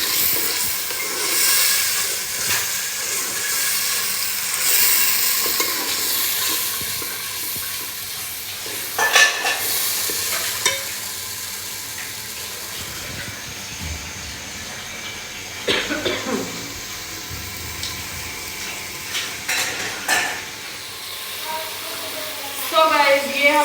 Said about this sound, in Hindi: अब हम लोगों ने इन सारी चीज़ों को अच्छे तरीके से भून लेना है